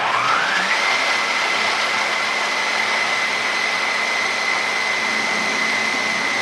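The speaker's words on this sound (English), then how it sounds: "I'm going to put it in the food processor" A Vitamix food processor grinds pecans into flour, a loud steady whirring motor that ramps up to a high pitch within the first second and holds it constantly to the end.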